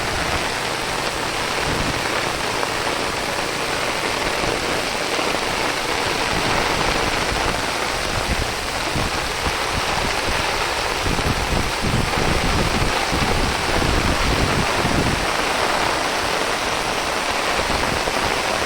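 Torrential monsoon rain pours over flooded rice paddy fields in the Konkan region, a dense, unbroken roar of falling and rushing water that stays loud and even throughout.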